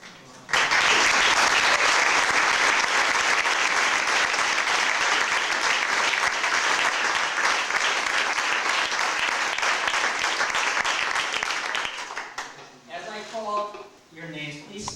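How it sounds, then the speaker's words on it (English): An audience at a men's gymnastics team reunion bursts into loud, sustained applause and cheering that fills the room for about twelve seconds before tapering off as a voice begins speaking. "why don't we hold our applause"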